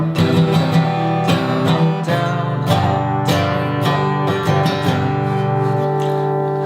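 Acoustic guitar strummed steadily up and down through the bridge of a song, with rhythmic, close, full chords and no talking.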